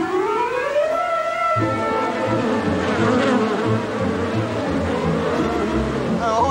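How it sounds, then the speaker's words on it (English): A steady drone of bees swarms around a large beehive carried on the back of a vehicle at Bondi, buzzing loudly and continuously throughout, with wavering tones riding over a low engine rumble. "you've got a massive beehive on the back of it"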